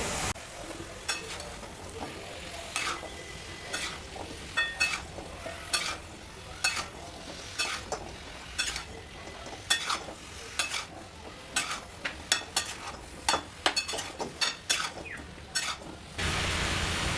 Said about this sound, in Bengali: এখন সমস্ত কিছু খুব ভালো করে মশলার সঙ্গে মিশিয়ে নিতে হবে